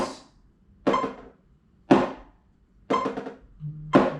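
Drumsticks tapping a snare practice pad in five strokes with irregular spacing and uneven force, some hits flammed or doubled, played close with no talk.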